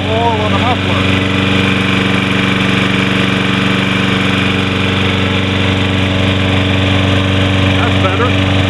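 Small Toro Recycler walk-behind lawn mower engine, model 20331, overfilled with oil and smoking, idling steadily up close with a constant drone and slight knocking throughout.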